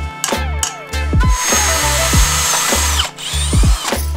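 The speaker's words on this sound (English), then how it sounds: "Now I just gotta drill that guy out." A power drill bores out a part on a Mazda Miata engine, with the motor whining loudly in repeated bursts that start and stop over a few seconds, close up and with no talking.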